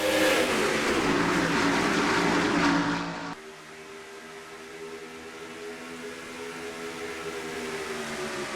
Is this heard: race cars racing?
yes